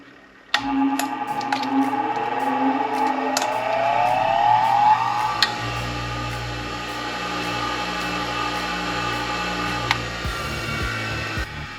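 A new bench grinder is switched on for a test run: its motor whine climbs in pitch as it spins up, then settles into a steady, close hum that carries on with a faint ringing tone.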